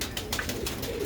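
High-quality rooftop pigeons cooing in a short soft burst, a few throaty coos close by, with faint background noise.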